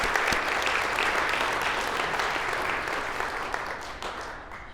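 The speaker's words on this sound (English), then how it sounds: "Give them a round of applause" Crowd applause for coaches at a Mountain Ridge Hall of Fame event, dense clapping from a large audience that starts strong and gradually thins and fades over nearly five seconds.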